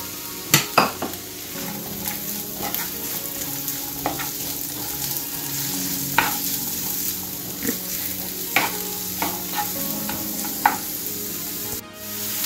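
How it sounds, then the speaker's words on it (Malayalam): Onions frying in hot coconut oil in a pan, a steady crackling sizzle punctuated by sharp spatula taps and scrapes at irregular intervals. "എണ്ണ ചൂടായി കഴിയുമ്പോൾ ഉള്ളി അതിലോട്ട് ഇടുക"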